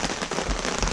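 Heavy rain pounds down steadily on surfaces at an overnight camp in a Vancouver Island rainstorm, a dense, loud, continuous patter with no talking.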